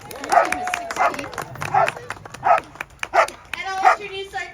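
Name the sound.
sled dogs barking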